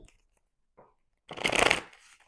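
A deck of tarot cards is shuffled close by, a couple of faint short riffles followed by one louder, dense rushing flutter lasting about half a second, then quiet.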